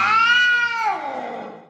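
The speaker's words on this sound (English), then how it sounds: "There's a black cat" A black cat gives one drawn-out meow in a Christmas movie scene, loud and close, rising and then sliding down as it fades.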